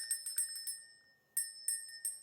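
A small metal hand bell rung for energy cleansing during a tarot reading chimes in quick repeated strikes, two clear bursts of bright ringing separated by a short pause, fairly soft and close.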